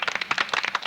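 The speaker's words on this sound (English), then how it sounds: "round of applause for these guys" An audience at a school speaking contest claps in a short burst of applause, dense overlapping hand claps that are close and fairly loud.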